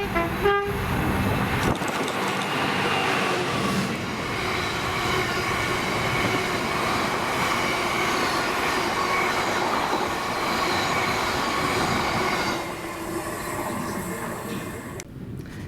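Empty cement wagons of a freight train rumble steadily past behind locomotive 66754, a loud continuous roll of wheels and wagons with a brief horn toot at the start, fading slightly near the end.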